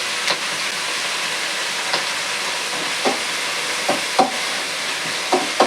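Garlic, tamarind and curry leaves fry in a pan with a soft, constant sizzle, broken by several sharp scraping strokes of a spoon spaced about a second apart.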